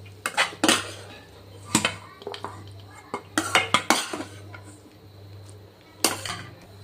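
A metal spoon scrapes a cooked bottle gourd mixture out of a pan, giving close, irregular metallic scrapes and clinks in quick clusters, with quieter pauses between.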